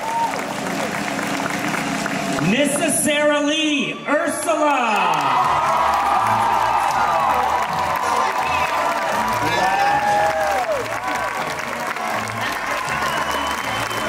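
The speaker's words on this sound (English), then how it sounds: "another round of applause" At a D23 Expo Mousequerade costume contest, the audience bursts into loud applause and cheering with whoops and shouts, sustained throughout while an announcer speaks over the crowd and music plays beneath.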